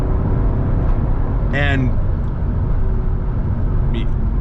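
A 2009 Mercedes-Benz SL65 AMG engine pulling at roughly 40% throttle, a loud steady drone with road and wind noise, heard from inside the car while someone speaks over it.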